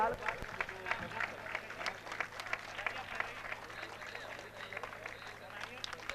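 Audience applause for children receiving prizes at a school religious gathering prize distribution, a dense steady patter of many hands clapping throughout with crowd murmur mixed in.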